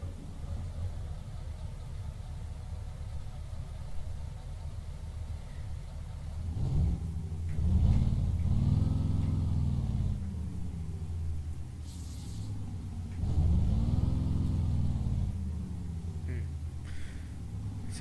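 Mercedes-Benz LS1525 truck engine in Euro Truck Simulator 2 turning over after the glow plugs warm, a low diesel rumble that swells twice in brief surges over a steady idle-like drone, moderately loud with no talking.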